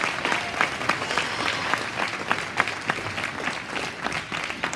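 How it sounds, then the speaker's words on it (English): Crowd at a youth swine show gives the kids a sustained round of applause, a continuous wash of many hands clapping, moderately loud and even throughout, with no speech over it. "Give all the kids a big round of applause."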